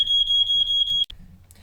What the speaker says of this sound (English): It's just the alarm upstairs is really sensitive.